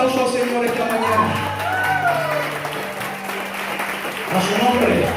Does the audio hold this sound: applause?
yes